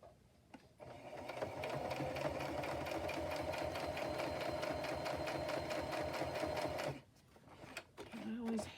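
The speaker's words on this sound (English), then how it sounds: "I'm going to go around with just a straight stitch real quick." A sewing machine runs a straight stitch in a steady, rapid mechanical chatter for about six seconds, starting and stopping abruptly, with brief quiet gaps and a voice at the end.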